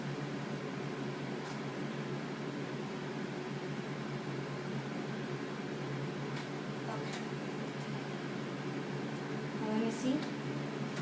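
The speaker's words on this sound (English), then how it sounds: "I put it in the microwave for 20 seconds" Steady low mechanical hum of a running microwave oven, constant and unchanging throughout, with a couple of faint clicks and rustles near the end.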